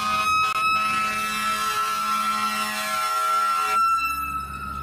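A toy fire truck's electronic siren wails steadily and loudly up close, its bright tones cycling and then cutting off near the end.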